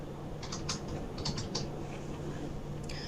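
Computer keyboard typing out an SQL query, a few short bursts of light, close key clicks separated by pauses, over a steady low background hum.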